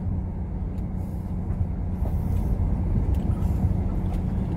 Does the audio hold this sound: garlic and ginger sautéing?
no